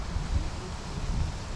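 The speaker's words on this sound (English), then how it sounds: "Sorry about the wind." Steady low wind rumble buffeting the microphone outdoors on an October day while rockhounding for banded onyx, continuous and fairly loud with no talking.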